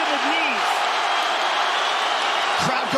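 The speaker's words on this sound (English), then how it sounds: "Crowd goes bananas as McGregor gets upright" Roar of an arena crowd at UFC 229, Khabib Nurmagomedov vs Conor McGregor, a dense continuous cheer filling the whole stretch, loud and distant-sounding.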